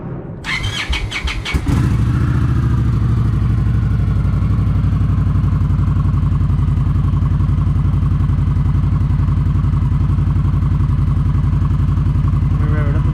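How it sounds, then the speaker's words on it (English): Indian Scout Bobber with its stock exhaust starting up and settling into a loud, steady idle close by, a deep throbbing rumble running throughout. "this is the stock exhaust."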